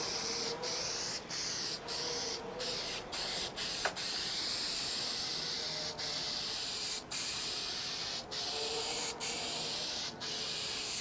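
Adhesive sprays onto a car headliner in a continuous close hiss, broken by brief regular pauses between passes, with no talk.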